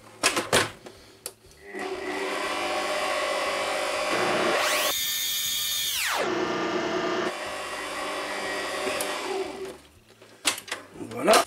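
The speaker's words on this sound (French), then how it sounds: "On continue à mélanger." An electric mixer whirs through galette des rois frangipane as almond powder is blended in, a steady close motor drone that rises sharply in pitch for a moment, then settles before stopping.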